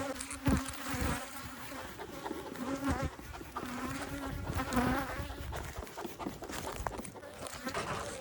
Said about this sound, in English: so look at these bees